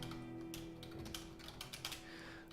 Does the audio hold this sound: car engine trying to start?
no